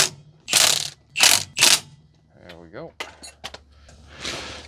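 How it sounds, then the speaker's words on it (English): Torque stick on an impact tool tightening lug nuts on a 1985 Merkur XR4Ti wheel: three loud close rattling bursts, then softer clicks and whirring spins, ending in a longer fading burst. "So I just got them on right now with the 80 foot-pound torque stick"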